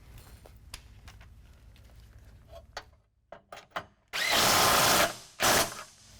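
A power tool tightens running board brackets on a 2014 Toyota Tundra during an Iron Cross Stealth running board install, with a few short taps and clicks followed by two loud, close bursts of drilling near the end.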